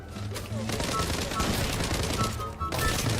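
Gunfire in the online shooter Zula, rapid bursts of automatic shots crackling loudly and almost continuously, with brief gaps, while a player talks over the action.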